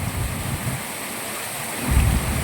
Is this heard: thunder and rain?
yes